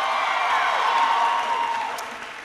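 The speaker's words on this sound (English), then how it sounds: "Give her a big round of applause." A crowd at a Benedict College speech applauds steadily, dense clapping that stays loud for about a second and a half before fading.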